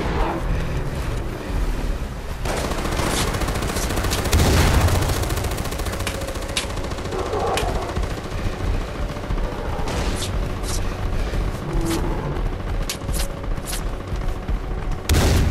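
Gunfire in the video game Far Cry 4, including sniper rifle shots, cracks out in sharp repeated bursts amid a dense, rumbling game soundscape, loud and close, with no talk.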